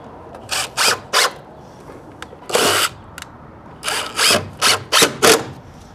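A power drill drives screws into fence cover pickets made from pallet wood, giving several short, loud whirring bursts close by, separated by brief pauses, with no talking.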